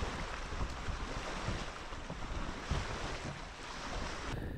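Strong, gusty wind roars with broadband wave wash across a lake during a canoe trip, steady and loud, with heavy wind buffeting on the microphone and no voices.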